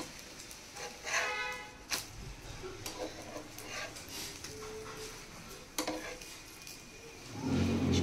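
Breakfast flatbread frying in a pan and being flipped to cook both sides, with a soft continuous sizzle broken by scattered sharp taps and scrapes of a utensil against the pan, louder sizzling swelling near the end.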